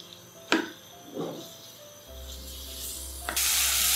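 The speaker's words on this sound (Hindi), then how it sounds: "ऑयल डाल के हम साथ इसमें चिकन डाल देंगे। चिकन को हम फ्राई करेंगे मीडियम फ्लेम पे" Chicken pieces dropped into hot oil in a pan over a medium flame, with a brief clatter, then a steady sizzle that swells loud and bright near the end, close up and with no talking.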